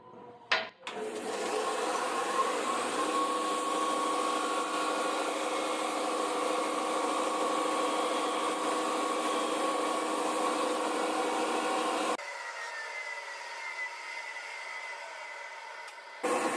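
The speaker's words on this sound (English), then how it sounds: "I'm going to use the sander in order to sand this a little bit smoother." A vertical belt and disc sander runs with a steady broadband whir as a curved wooden board, rough from the bandsaw, is pressed against it; the sound holds loud and even for about eleven seconds, then drops to a quieter motor hum.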